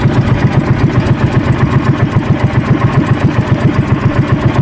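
Outboard-style engine of a small fishing boat idling steadily, a close, even low chugging pulse with no talk over it.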